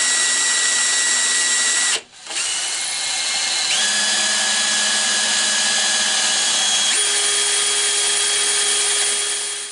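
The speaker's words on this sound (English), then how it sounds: "Okay, so the holes are drilled." A power drill whines steadily at high pitch, briefly stopping partway through, then resuming with shifts in motor tone as it bores holes in a replica Dalek build, loud and close.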